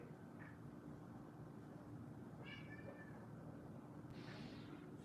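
A cat meows softly a few times over a steady low background hum, faint and somewhat distant, with short separated calls.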